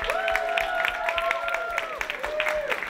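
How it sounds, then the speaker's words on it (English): Audience applause at a Fuckup Nights Toronto talk event, steady clapping from a crowd with a voice speaking over it throughout. "we need to give Rena a huge round of applause"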